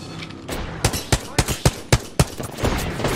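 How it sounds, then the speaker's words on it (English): Gunfire in a battle-royale shooter game, with dual G7 Scout rifles in play: a rapid series of sharp, loud shots, about eight close reports in a little over two seconds, then a rougher burst of firing trailing off. "I'm being shot from the other team behind"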